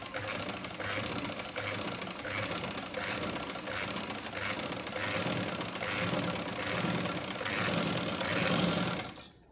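A sewing machine runs steadily, stitching zigzag lace around the edge of a dupatta, a continuous close mechanical whir with rapid needle pulses and no pauses until it stops at the end.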